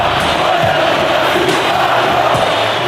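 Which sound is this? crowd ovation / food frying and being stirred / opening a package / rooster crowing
crowd ovation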